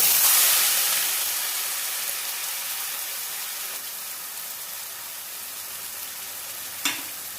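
A ground paste of onion, garlic, tomato, green chilli and ginger hits hot oil over reddened sugar for egg biryani, giving a loud broad sizzle that slowly settles to a steady fry, with a brief utensil knock near the end.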